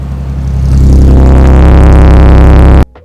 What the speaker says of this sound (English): Get up close to it so they can actually hear it.